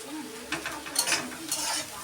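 Potatoes fry in a pan with a steady sizzle, broken by a few stirring scrapes of a spatula against the pan at close range, alone with no talking.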